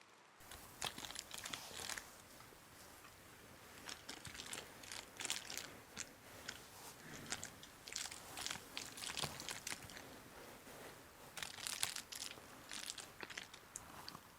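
Plastic crinkles and crunches in close ASMR style, a busy stream of sharp crackly bursts and rustles that goes on throughout at low volume with no talking.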